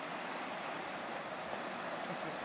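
A river in Kananaskis rushes steadily with a dense, continuous broadband wash of flowing water, close and fairly loud, with no voices over it.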